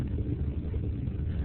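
Space Shuttle Atlantis main engines rumbling during launch as they throttle down, a steady low roar with dense broadband energy, continuous and even in loudness.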